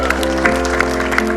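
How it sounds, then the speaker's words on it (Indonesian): Brief burst of audience clapping for contestant Fadli at a Quran recitation competition grand final, quick scattered claps over a steady background hum. "Tepuk tangan dulu dong."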